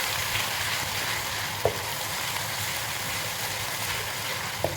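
Onion with ginger-garlic paste frying in a pot, a steady dense sizzle running throughout with a couple of soft clicks of stirring, close and even, no voices.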